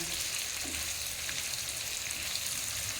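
Paneer cubes frying in oil in a pan over a high flame, giving a loud, steady hiss and crackle that runs unbroken throughout with no talk.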